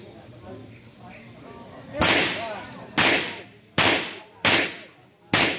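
Gunshots fired during shooting practice on a firing range: five sharp, loud reports spaced about a second apart, each with a brief decaying tail, after a stretch of quiet background murmur.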